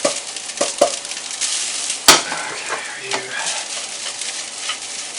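Rice for veggie fried rice frying in a pan, with a steady loud sizzle broken by scraping stirs and a few sharp clanks of the utensil against the pan.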